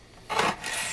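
A knife rasping through a smoked sirloin tip roast cooked on a Masterbuilt smoker, one short close scraping cut that swells and then trails off, with no talking.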